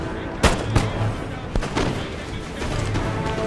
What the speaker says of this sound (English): Come on, fire the artillery.